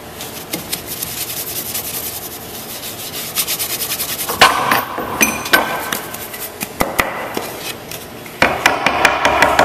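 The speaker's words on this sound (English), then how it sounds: "You want to get that out with a brush." Brush strokes sweeping sawdust out of a router-cut groove in a wooden sign, a steady close scratchy rubbing that turns into sharper, louder bursts of scrubbing partway through.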